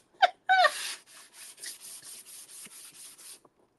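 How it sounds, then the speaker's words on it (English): Short scratchy rubbing strokes in a quick back-and-forth rhythm, close and fairly soft, fading out after a few seconds. "Just gonna give it a light sanding."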